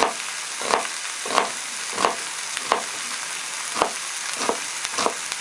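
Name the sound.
chopping a small onion with a knife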